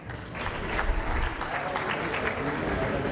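A conference audience applauds steadily to welcome the chief guest, the Chief Minister of Sindh, at the opening ceremony of the 11th Aalmi Urdu Conference in Karachi, with a broad, even wash of clapping sustained throughout.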